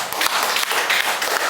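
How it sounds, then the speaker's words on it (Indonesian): Audience applause at a product presentation, a moderate spread of hands clapping with some individual claps standing out in an uneven, continuing rhythm. "Tepuk tangan dong buat Omimpi."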